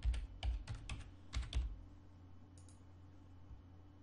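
Computer keyboard being typed on to enter login details, several quick bursts of clicking keystrokes close by, then a pause with faint room hum.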